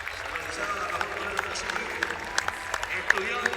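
A basketball arena crowd at the 2013 FIBA Americas Championship final between Puerto Rico and Mexico applauds and cheers steadily, with scattered sharp claps standing out, while a commentator talks over the noise.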